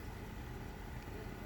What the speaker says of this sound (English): You can hear my variable speed pump priming in the background